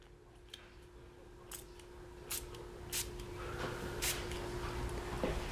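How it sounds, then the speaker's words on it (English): A spray bottle fires several short, crisp bursts at irregular intervals, close by, over a faint steady background hum. "You're going to spray 3 to 4 sprays per panel."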